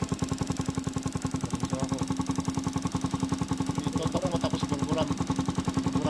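A Yamaha SZ motorcycle engine fitted with a TMX 155 carburetor runs at a steady idle, a close, even pulsing putter with light mechanical clatter throughout.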